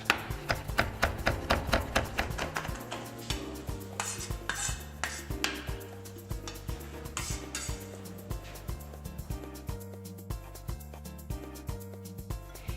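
A knife chops fresh dill on a cutting board in a steady run of quick taps, close and fairly quiet, with occasional clinks of utensils.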